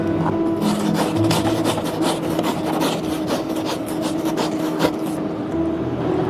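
A hard metal brush scrubs across a stone coated roof tile in quick, repeated rasping strokes, close and fairly loud, with a steady rhythmic scratching and no speech.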